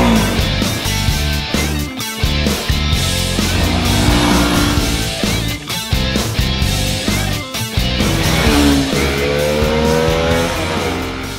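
Bajaj Pulsar AS motorcycle ridden along winding roads, its engine loud and steady with rising revs as it accelerates, heard close up under a dense, continuous wash of sound.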